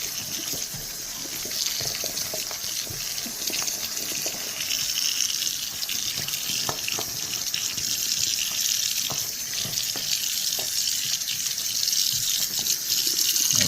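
Water from an open tap runs freely down a cleared sink drain, a steady close rush and gurgle that holds at an even level throughout, with no one talking.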